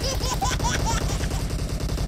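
Rapid automatic gunfire in the mobile battle royale game PUBG Mobile, a dense continuous burst of shots running the whole clip, loud and close, with no talk over it.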